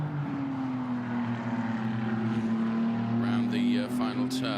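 Ferrari Challenge race car accelerating out of the final turn at Mugello during qualifying, a steady high engine drone rising slightly in pitch, heard at a distance under crowd and ambient noise, with faint sweeping tones near the end.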